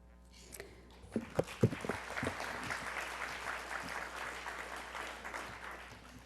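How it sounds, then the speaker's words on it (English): An audience at an evening candidate forum bursts into applause after a quiet moment, a few sharp early claps swelling into steady, moderately distant clapping that continues to the end. "I will ask you to applaud all the candidates and all the hardworking League of Women Voter members who have helped tonight"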